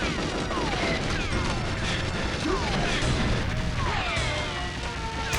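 Rapid gunfire and crashing impacts from the GoldenEye video game keep up a dense, steady barrage across the whole stretch, with sharp shots and sweeping effects sounding close and loud.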